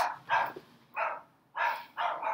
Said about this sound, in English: my dog is yelling.